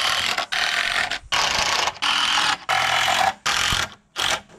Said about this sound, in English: Start screwing this thing together.